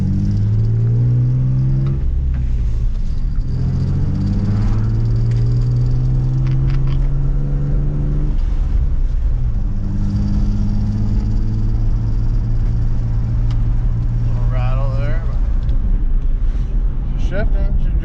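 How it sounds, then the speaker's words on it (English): A Nissan 350Z with a CD009 transmission and new clutch and flywheel drives past, its mid-range engine rumbling and rising through revs with shifts between, while someone talks over it. "Shifting, she's driving, she's working."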